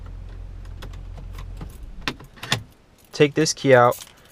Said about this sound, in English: If I take this key out